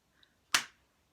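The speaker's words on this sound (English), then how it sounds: "All you have to do is try and clap at exactly the same time as me." A single sharp hand clap from a teacher in a children's lesson, close and crisp with a quick decay, alone in near silence.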